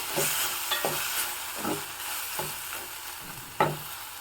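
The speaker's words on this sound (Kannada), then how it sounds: "ಇದಕ್ಕೆ ಒಂದು ನಾಲ್ಕೈದು ಕರಿಬೇವಿನ ಸೊಪ್ಪನ್ನು ಹಾಕಿದ್ದೀನಿ ಒಗ್ಗರಣೆಗೆ" Hot oil sizzles steadily up close as curry leaves are added for tempering while a utensil stirs and scrapes at a regular pace, ending with a sharper clack.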